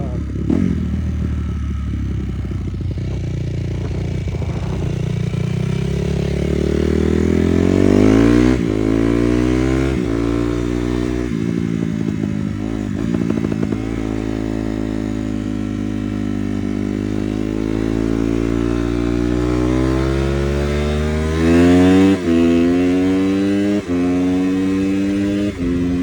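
A Honda CRF250 dirt bike engine idles close by, then revs up and down in repeated rising and falling sweeps over its warm running note.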